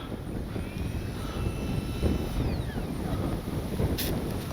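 An H-King L-39 64mm electric ducted-fan RC jet flies past with a thin whine that rises and falls, faint behind steady wind noise across the microphone.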